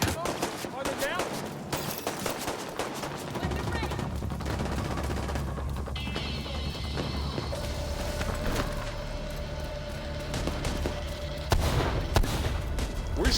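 M14 rifle shots and other gunfire ring out in The Division, dense sharp cracks over a continuous din of combat, with someone speaking at times.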